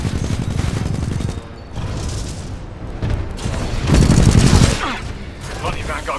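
Gunfire during a Titan battle in the video game Titanfall 2, with bursts of shots and heavy booms layered over a dense, loud battle din, while a voice is heard briefly.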